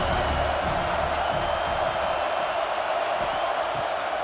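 A steady roar from a stadium crowd at a Syracuse at Notre Dame college football game in EA College Football 26. The wash of cheering noise holds constant and fairly distant throughout, with no clear voices standing out.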